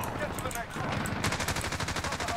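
Rapid machine-gun fire from an enemy in a Modern Warfare match on the Rust map, a steady burst of closely spaced shots, moderately loud, with players talking over it.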